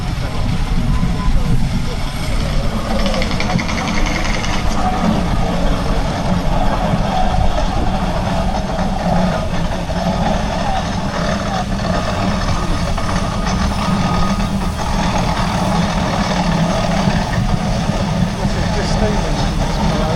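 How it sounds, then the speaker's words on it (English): A steam engine at the Weald of Kent steam rally chugs with a steady low mechanical rumble that continues for the whole stretch, with voices and crowd chatter underneath. "Yeah, steam engine."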